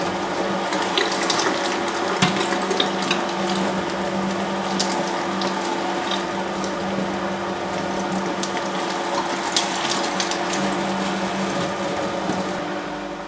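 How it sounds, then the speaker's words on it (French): Electric meat grinder mincing alternating lean and fat pork for Toulouse sausage, a steady close motor whir with faint metallic grinding clatter running continuously throughout. "Il faut bien veiller pendant le hachage à alterner maigre et gras."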